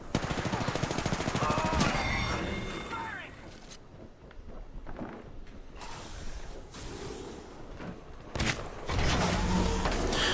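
Automatic gunfire and weapon handling in Apex Legends, rapid bursts loud at the start and again near the end, with mechanical clicks and rattles in between and players talking over it.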